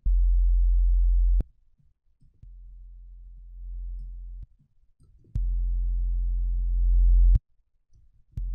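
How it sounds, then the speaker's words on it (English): Clean sine wave test tone from Ableton Live, steady and loud, playing in several sustained segments of a few seconds each with brief gaps between them; no voices. "This is the sine wave."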